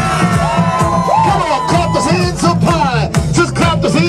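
A party crowd screams, whoops and cheers at a live stage performance, a dense, loud, continuous roar of shrieking voices filling every moment.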